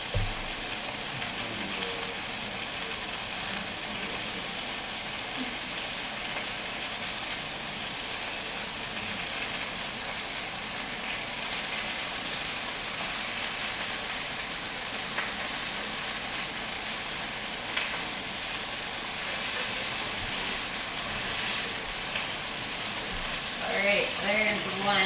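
Chicken roulade stuffed with spinach and feta searing in a hot frying pan, a steady close sizzle and fry running throughout with faint clatter near the end.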